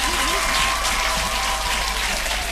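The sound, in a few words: audience applauding and cheering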